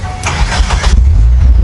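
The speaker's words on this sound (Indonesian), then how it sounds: "kita mau dengerin suara mesinnya kayak gimana. Ini langsung aja kita starter ya." A modified 1983 Suzuki Jimny with a turbo engine cranks briefly with a loud, close whirring starter, then catches and settles into a deep, rumbling idle.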